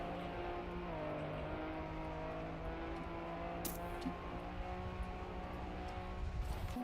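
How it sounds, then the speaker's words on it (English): Rally car engine in the racing video game Trackmania, a steady droning hum with gear-like tonal lines shifting in pitch, moderately quiet, with a couple of brief sharp bursts. "Okay. I'll take the rally car."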